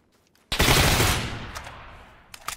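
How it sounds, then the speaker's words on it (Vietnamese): One heavy, hard-recoiling gun blast in a video game cracks out sharply after a short quiet lead-in, then a long decaying echo follows, with faint clicks near the end. "Súng nó giật quá."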